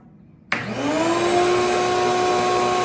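A vacuum cleaner switches on after a moment of quiet and runs steadily, its motor whine rising then holding loud and close during house renovation work.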